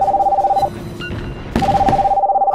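A telephone rings loudly in a fast pulsing electronic trill, in two bursts separated by a short pause with a soft thud in between.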